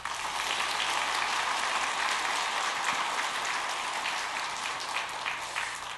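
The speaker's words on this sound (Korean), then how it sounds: "박수 한번 하겠습니다" A church congregation at a Sunday afternoon service claps together, a steady dense patter of hands that holds evenly from start to finish.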